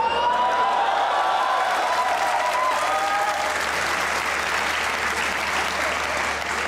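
Dense, sustained applause from a television comedy talk-show studio audience, loud and steady throughout with no talk over it.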